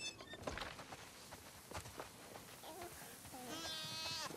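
Sheep bleat in The Last of Us Part II, several wavering calls near the end rising over a background of footsteps and ambient clatter.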